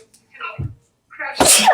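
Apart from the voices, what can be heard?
sneeze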